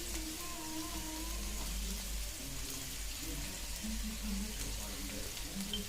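Onion, garlic and ginger sauté in a pan for a mutton dish, giving a soft, continuous sizzle and crackle at low level, with faint low clinks and stirring underneath.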